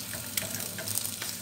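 Food frying in a pan during breakfast cooking, a faint, steady sizzle with small crackles and no other sounds.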